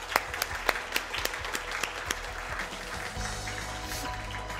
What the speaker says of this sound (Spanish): Bueno, un aplauso ya.